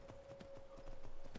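Horse hooves clip-clopping in Skyrim, with several horses riding together; a faint, steady trotting rhythm under a thin tonal hum.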